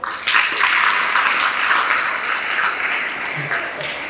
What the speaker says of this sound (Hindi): ज़रा इन पंक्तियों पर आपकी तालियां चाहती हूँ।